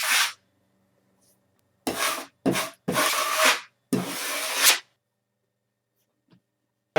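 Sanding block or abrasive rubbing across a drywall patch repair on a wall, four or five separate scraping strokes of varying length, close and fairly loud, with silent pauses between.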